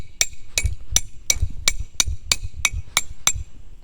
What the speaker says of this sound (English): So let me go ahead and put one of these stakes in here.